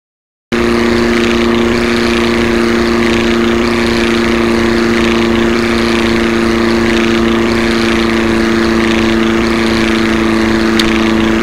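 Propeller fighter plane engines in a flight combat video game drone in a loud, steady roar that starts abruptly and holds unbroken, with no voices over it.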